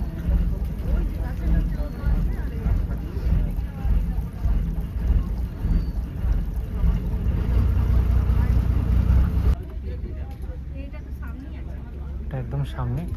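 A motorboat travels through the Sundarbans, its engine drone and water rush loud and steady for about ten seconds before dropping to a quieter rumble. Voices talk over it.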